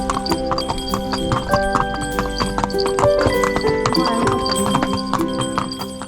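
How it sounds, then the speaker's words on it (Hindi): Horse hooves clip-clop steadily on a horse ride in Nainital, Uttarakhand, loud and close with repeated rhythmic knocks, a whinny in the mix, and layered tonal sounds around them. "खज्जियार के बाद मैं आज दूसरी बार हॉर्स राइडिंग कर रहा हूँ"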